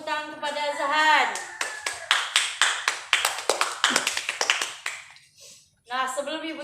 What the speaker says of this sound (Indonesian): Tepuk tangan kepada Zahan.